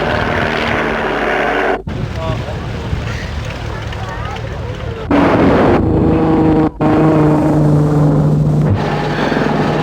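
A Westland Lynx helicopter flying at the 1982 Ulster Air Show, its rotor and engine a loud steady rumbling drone that swells and dips, with an announcer talking over it.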